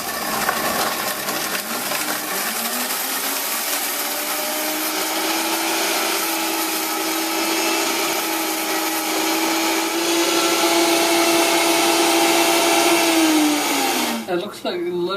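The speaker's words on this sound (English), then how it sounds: "I'm using the Vitamix." A Vitamix blender whirs loudly and continuously while blending Tibetan hot sauce, its motor pitch holding steady for a long stretch before winding down abruptly near the end.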